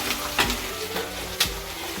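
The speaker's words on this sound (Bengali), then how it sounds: "আর এখানে পেঁয়াজটাও ভাজছি" Sliced onions frying in a pan during home cooking, a continuous close sizzle with a few brief stirring scrapes and bursts.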